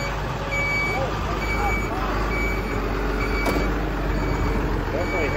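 An old, long-abandoned fuel truck rumbles steadily as it is driven, its heavy low engine drone continuous throughout with faint intermittent beeping tones and a brief clank riding over it.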